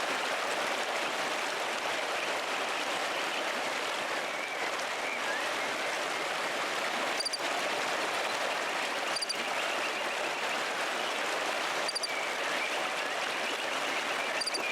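Waterfall in the video game Pentiment, a steady broadband rushing wash filling the whole stretch, with a few faint high chimes now and then and no speech.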